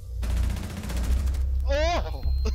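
Hip-fired gunshots in a first-person shooter, a rapid burst of loud shots in quick succession lasting about a second, followed by a short rising whoop-like voice and a chirp.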